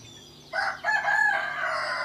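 A rooster crows loudly and close by at a free-range poultry farm in Sangameshwar, Ratnagiri, one drawn-out call rising then holding, with faint background noise and no talking.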